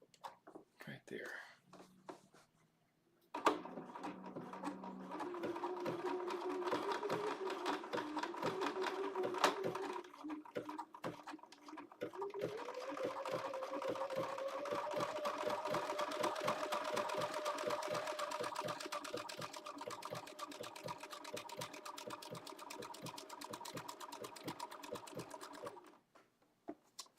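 A Bernina sewing machine stitches through layered quilt fabric in a steady, fast mechanical whir of needle strokes that runs for about twenty seconds and then stops, with soft speech before the stitching starts.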